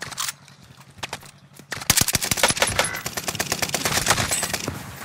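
Video game gunfire: after a quieter stretch, rapid bursts of automatic shots crackle loudly and densely for several seconds, close and sharp.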